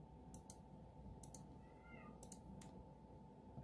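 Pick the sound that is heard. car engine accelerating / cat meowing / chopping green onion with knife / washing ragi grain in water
cat meowing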